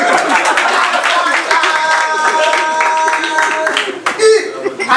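An audience at a building inauguration in Cameroon claps continuously while someone speaks loudly over it, dense applause mixed with cheering voices throughout.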